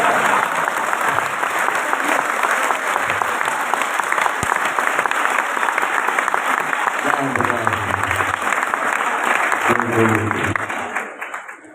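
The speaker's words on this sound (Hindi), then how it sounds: "बस ये तालियां बजाते रहो बस" Sustained audience applause in a crowded hall during a discourse at a Digambar Jain temple gathering, dense and steady for most of the stretch before tapering off at the end, with a few voices surfacing through it.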